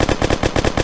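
Rapid automatic gunfire from a weapon in the video game Kick The Buddy, a steady burst of evenly spaced loud shots at about eight per second, sharp and close with no other sounds.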